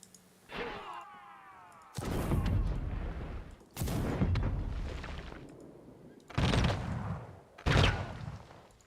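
Mortar artillery fire in the Humankind strategy game, with several loud booming blasts spaced a second or two apart, each followed by a rumbling decay and a whistling launch near the start.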